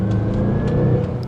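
The turbocharged four-cylinder engine of a 2016 Mazda CX-9 drones steadily under acceleration, a loud, close, continuous engine note with a faint whine layered on top.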